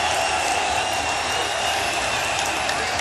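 Steady wash of applause from a capacity crowd at Kenya's Kasarani Stadium as a player is substituted, distant and continuous with no breaks for about three seconds.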